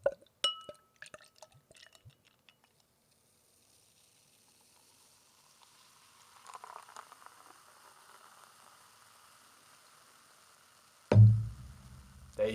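James Ready 5.5 beer is poured into a regular pint glass: a few drips and clinks give way to a soft, rising fizz of pouring and foaming, then a loud splash near the end, with no talking.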